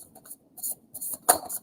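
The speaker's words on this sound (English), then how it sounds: "let me give it a shuffle." A deck of Light Seers Tarot cards shuffled by hand, giving several quick papery riffles and flicks in short bursts, close and fairly quiet.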